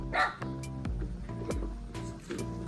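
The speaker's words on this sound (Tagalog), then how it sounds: "bakit may aso na? Dati walang aso." A dog barks several times in short, sharp yaps spaced apart, fairly close, with a few higher whiny yips in between.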